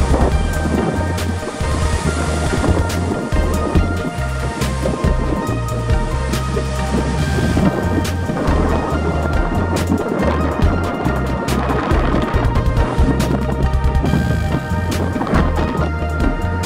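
A strong onshore wind blows across a surf beach on a 13-degree day, a loud continuous roar mixed with crashing surf and rumbling gusts buffeting nearby, with no voices.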